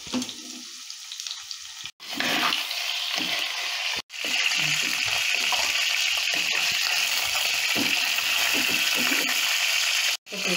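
Fish frying lightly in a little oil in a clay pot makes a loud continuous close sizzle, with brief cutoffs and a quieter start before the hiss fills in.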